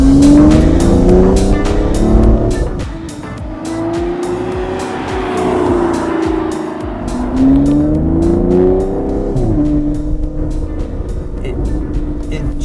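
A 2015 Aston Martin Rapide S engine revs loudly and repeatedly, its roar rising and falling in pitch with crackles between throttle blips, close and dominant.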